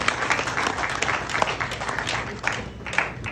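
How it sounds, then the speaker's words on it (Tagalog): An audience applauds the parents at a family celebration, with a lively burst of clapping and crowd noise that swells and dips, carrying faint background murmur. "Wala po bang palakpak para sa mga magulang sa araw na ito?"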